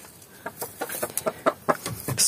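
A hen clucks in a series of short, close, uneven bursts, with no one talking.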